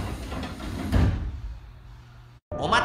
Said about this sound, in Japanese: ドアが閉まります。 ご注意ください。